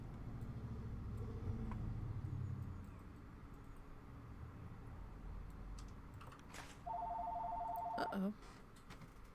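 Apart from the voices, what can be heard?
telephone ringing in the video game Planet Zoo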